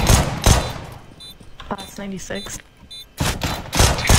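Revolver fire in a shooting video game: loud bursts of gunshots at the start and again near the end, with people talking in between.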